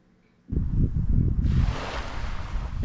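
Wind and surf at an open beach where an invasion landing took place, a loud steady rush of breaking waves and gusting wind across the microphone, with no talking.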